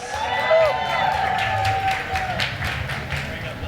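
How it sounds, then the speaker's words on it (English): Audience applause and cheering at a culinary conference cooking demonstration, steady crowd clapping with scattered shouts filling the room for several seconds, with a voice speaking over it. "give her a round of applause"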